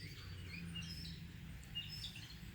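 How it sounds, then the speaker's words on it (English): Birds chirp and trill in quick bright bursts after rain, several calls overlapping against a low steady background hum. "Birds are awful happy it quit raining, it seems."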